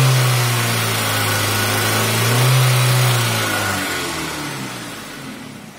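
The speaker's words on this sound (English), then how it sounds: "I'm gonna give it a few revs here" A car engine in a garage, run with Marvel Mystery Oil poured into the intake, is revved loudly and close up, the pitch climbing and then settling back toward a lower idle.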